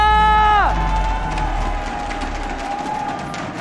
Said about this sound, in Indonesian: EPL Arena, mana tepuk tangannya?